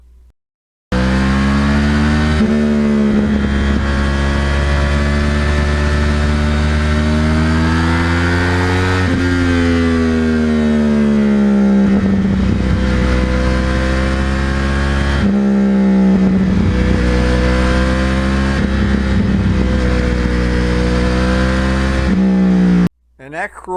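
A Yamaha R1 with a crossplane engine revs hard and close, its pitch climbing and falling through repeated throttle sweeps with a rough, pulsing growl that continues almost without a break.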